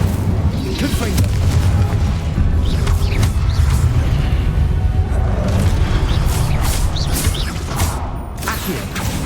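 Repeated Confringo blasting-spell explosions in Hogwarts Legacy, loud booms and crackling bursts layered over a dense, continuous rumble, with a voice shouting along.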